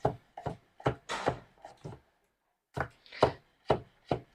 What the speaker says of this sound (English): While chopping carrots and chopping ginger, I have to be very careful because they slip.